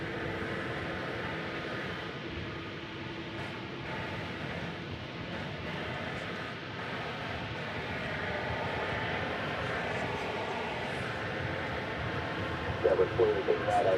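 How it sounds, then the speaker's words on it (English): A jet airliner idles on the ground at DFW Airport, waiting to take off, a steady distant engine rumble and whine running throughout under continuous background talk, with a few brief sharper sounds near the end. "we thought this plane was going to be taking off soon"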